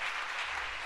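Applause from a congregation during a church service, a steady, dense wash of clapping lasting under a second with no voices over it.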